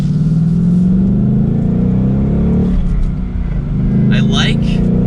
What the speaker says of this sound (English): I'm gonna give it another acceleration here from first gear.